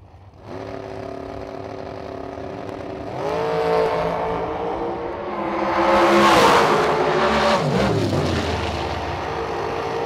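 A fenderless dragster at a drag racing event roars down the strip, its engine note rising and building to a loud peak before falling away, a continuous loud run with no voices.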